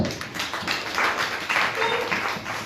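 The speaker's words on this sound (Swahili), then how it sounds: "Pigia Yesu makofi." A church congregation claps together during a Sunday service, with a dense, continuous patter of many hands that rises and falls over a couple of seconds.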